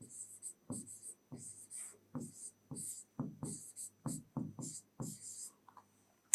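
Marker or chalk strokes writing words on a classroom board, a run of short scratchy bursts in an uneven rhythm, close and clear, with no talking over them.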